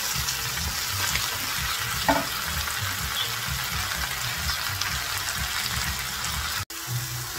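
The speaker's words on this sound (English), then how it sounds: "I'm using baby spinach today. We're going to saute it until it's nice and softened." Baby spinach sautés in a pan, a steady close sizzle with wet crackling and soft stirring scrapes running throughout, briefly cut off near the end.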